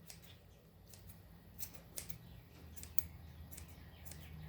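Scissors snip through hair during grooming, with quiet, irregular crisp clicks over a faint low hum.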